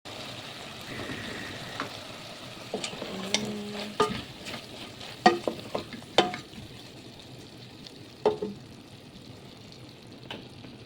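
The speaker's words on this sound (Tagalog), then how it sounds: "halo-haloin natin guys" Gizzard chicken adobo being stirred in a pan, with a spoon scraping and clinking against the metal in irregular bursts over a soft, steady sizzle of frying.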